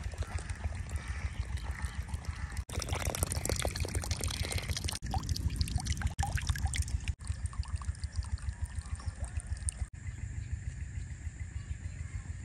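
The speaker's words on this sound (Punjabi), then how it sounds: "ਪਾਣੀ ਖੇਤ 'ਚ ਆਉਣਾ ਸ਼ੁਰੂ ਹੋ ਗਿਆ" Irrigation water pours steadily into a spinach field, a continuous rushing, gurgling flow heard up close and moderately loud for the whole stretch, with a few brief dropouts.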